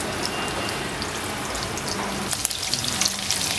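Onions fry in a pan, giving a loud, continuous sizzle and crackle with scattered pops throughout, close up and with no voices.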